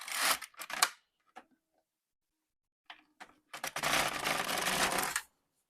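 An LK150 mid gauge knitting machine clatters in a few short bursts, then its carriage makes one continuous rattling sweep across the needle bed for a single row before stopping.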